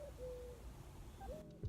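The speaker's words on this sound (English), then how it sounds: "That owl will not shut up." An owl hooting outdoors in the daytime, a few soft, drawn-out low hoots, fairly distant and faint against steady outdoor background noise, with no talking.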